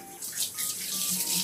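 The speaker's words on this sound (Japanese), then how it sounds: "では今からお湯を溜めていきます" Hot water running steadily into a washing machine tub, filling it for a tub-cleaning soak; a continuous close splashing rush with no talk.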